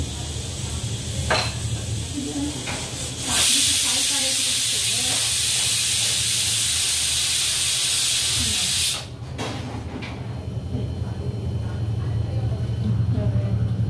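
A pressure cooker on a home kitchen stove lets out a loud, steady hiss of steam for several seconds, set against ongoing kitchen clatter and background noise before and after the burst.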